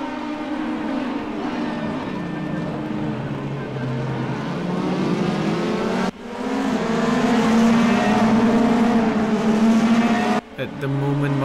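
Race cars in a sim racing game drone with steady high engine whine, one car's pitch rising and shifting through gears, while a commentator talks over the continuous engine noise.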